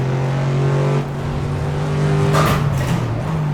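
A car engine on the Nürburgring race track hums with a steady low drone, briefly dipping and then rising again, with a faint hiss of tires near the end.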